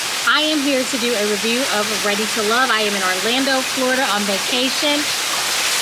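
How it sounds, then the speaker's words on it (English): A waterfall at a vacation spot in Orlando, Florida, giving a constant rushing wash of water beneath someone talking close by throughout. "You guys can hear the waterfall behind me."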